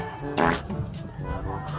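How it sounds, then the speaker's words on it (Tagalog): A short, loud fart bursts out early, surrounded by people talking and reacting. "Oh, ayan! Umutot ka!"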